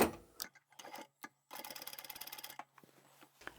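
A domestic sewing machine stitches fabric for a hanging zippered sweater holder, sewing a few stitches, reversing to back stitch, then going forward again, heard as short mechanical bursts with a longer rapid run in the middle.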